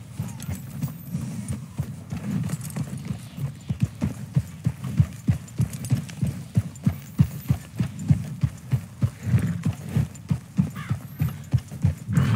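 A white horse gallops in Red Dead Redemption 2, its hoofbeats a steady, loud rhythmic clip-clop that runs throughout with a low thudding body under it.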